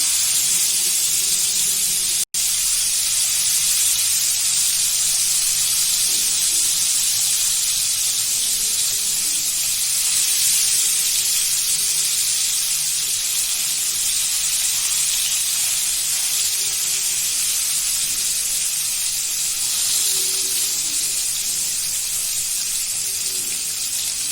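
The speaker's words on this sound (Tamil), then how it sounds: "இப்போ ஒரு மீனாக போட்டு பொரிச்சுக்கலாம்." Nagarai fish fries in hot oil over low heat with a loud, steady sizzle and hiss that continues unbroken, with no voices.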